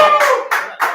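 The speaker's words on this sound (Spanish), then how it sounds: "quiero que reciban con un fuerte aplauso al señor Javi." Applause bursts out at a cocktail-making master class, with three quick waves of clapping in a single second, the middle one loudest, and faint voices mixed in.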